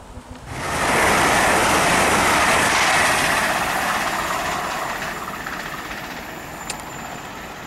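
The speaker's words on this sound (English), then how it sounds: "the Lumo train to King's Cross passing through" A Lumo train bound for King's Cross passes through a station, a loud broadband rushing roar that swells within a second, holds, then slowly fades, with a brief metallic squeal near the end.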